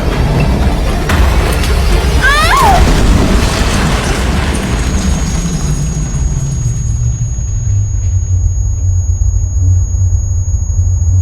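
A loud, deep explosion rumbles through an action-movie scene, then a long rolling boom slowly fades, with a thin high ringing tone lingering afterward; no speech.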